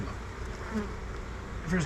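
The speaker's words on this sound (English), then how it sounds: "Too many damn bees in there." Honey bees crowd an eight-frame hive during an inspection, making a dense, continuous close-up buzz that swells slightly louder near the end.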